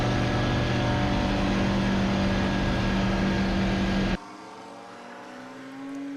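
Kitfox light aircraft on its takeoff run with full flaps, a loud, steady engine drone close by that cuts off abruptly, leaving a fainter distant hum.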